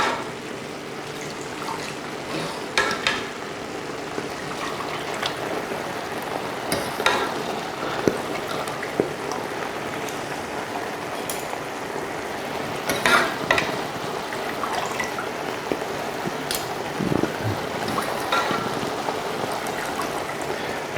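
Cooked gluten-free pasta is poured into a colander in a kitchen, its water rushing and trickling steadily with clatters and knocks of pasta and cookware along the way.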